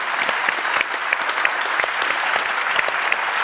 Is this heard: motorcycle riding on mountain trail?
no